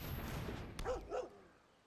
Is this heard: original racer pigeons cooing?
no